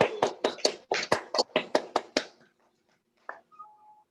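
About a dozen distinct, evenly spaced claps ring out close and fairly loud over two seconds on a Zoom training session welcome, then stop, leaving near silence and a faint tone.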